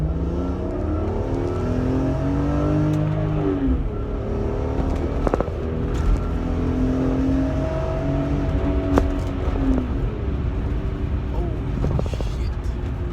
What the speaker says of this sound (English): This car is just so fast and strong it pulls.